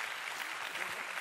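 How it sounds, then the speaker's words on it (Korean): Audience applause at a Korean broadcast writers' masterclass event, a brief, dense wash of clapping that stays steady and fairly loud throughout. "두 분께 다시 한번 큰 박수 부탁드립니다."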